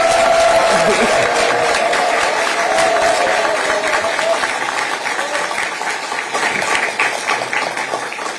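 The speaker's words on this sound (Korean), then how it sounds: "큰 박수를 보내주시기 바랍니다" A crowd at a Korean political party rally applauds in a dense, steady burst of clapping that gradually thins, with a voice speaking faintly underneath at the start.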